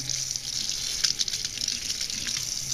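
Warm water running from a kitchen tap while it is brought up to temperature for kolachi dough: a steady, close splashing hiss that carries on alone from start to finish.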